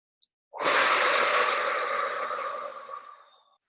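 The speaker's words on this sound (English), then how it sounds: "as you breathe out, make a really big, like obnoxious sound, like just that fire lion's breath" A single loud, long lion's breath exhale from a breathing exercise, forceful and close, rushing out and slowly fading over about three seconds after a brief intake.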